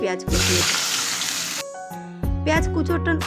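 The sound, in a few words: chopped onions frying in oil with spices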